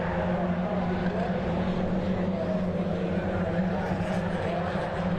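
Mazda MX-5 race cars at Donington Park drone past down the Craner curve, a continuous, moderately distant engine roar with a commentator's voice talking over it.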